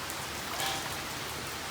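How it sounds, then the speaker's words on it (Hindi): Light rain falls steadily and close by, an even hiss of drops on surfaces with no voices and no thunder. "हल्की हल्की बारिश हो रही बहुत दिनों बाद।"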